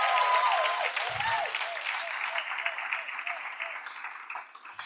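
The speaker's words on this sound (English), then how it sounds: "Please give her a warm round of applause." Audience applause for an award winner at a women-in-leadership event: dense, sustained clapping from a sizeable crowd, loud at first and gradually thinning toward the end.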